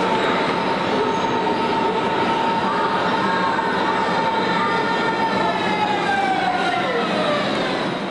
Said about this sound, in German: Die neue S-Bahn rollt in den Bahnhof Zoo.